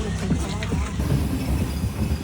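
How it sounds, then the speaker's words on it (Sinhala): A train pulls out of Thalpe station, a continuous rumble of wheels on rails with faint squeals and a low clatter, fairly distant and steady. "කෝච්චිය ගියා"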